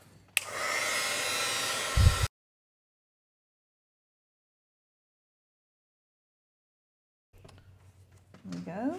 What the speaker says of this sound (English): let me heat set these trees really quickly